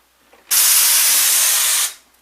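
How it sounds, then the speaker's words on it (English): A single loud, steady hissing spray burst lasting over a second, starting abruptly and tapering off, as a texture hopper at full blast sprays drywall mud onto plastic. "I like to turn it on full blast and spray a little bit of texture on the plastic"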